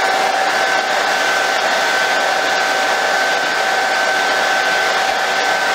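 A hair dryer blows continuously on a dewy telescope, a loud steady whooshing hum with a constant high whine, running close by with no talking.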